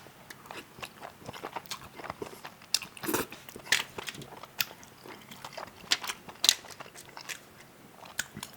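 Chapagetti noodles with cabbage kimchi are chewed up close, quiet irregular crunchy bites and crackles with louder sharp crunches now and then, no speech over it.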